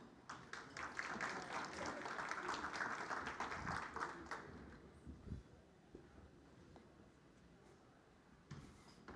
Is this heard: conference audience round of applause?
yes